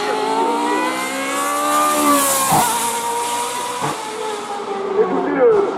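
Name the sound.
V4 engine of hill climb race car revving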